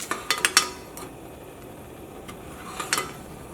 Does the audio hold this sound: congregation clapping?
no